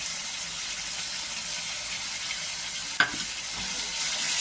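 Spiced yogurt and curd masala being stirred and sautéed in a pan with salt, giving a steady soft sizzle, with one sharp utensil clack near the end.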